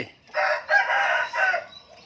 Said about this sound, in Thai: ฟังเสียงนกเสียงไก่